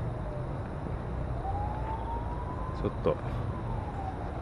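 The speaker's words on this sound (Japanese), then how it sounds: "サイレンが鳴ってるけど、" Emergency vehicle siren at night by the waterfront in Odaiba, a faint distant wail rising and falling under nearby talk, with ambient outdoor noise throughout.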